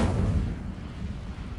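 Incendio fire spell cast in the Hogwarts Legacy video game on PlayStation 5, a loud low booming burst that rumbles and slowly fades over under two seconds, with no talk.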